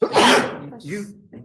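A single loud, close sneeze bursts out in a courtroom during a trial, followed at once by a brief spoken word.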